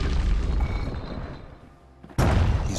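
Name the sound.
grenade explosions in the video game Bastion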